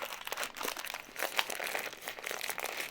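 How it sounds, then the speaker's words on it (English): A plastic accessory package for an iPhone 14 Pro Max MagSafe mount and Type-C cable is ripped open, giving a continuous close crinkling and tearing rustle of plastic for a few seconds, with no talk. "Just gonna rip this open."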